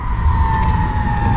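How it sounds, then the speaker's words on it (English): A fire truck siren wails loudly and close, a sustained high tone over deep engine rumble. "It's like sirens all over the city."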